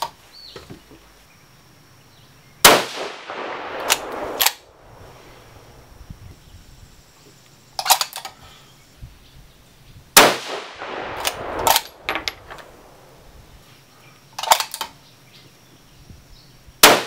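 Several sharp rifle shots from a freshly chambered barrel firing 130 ELD Match loads, each a loud crack with ringing tail, spaced several seconds apart with quiet between.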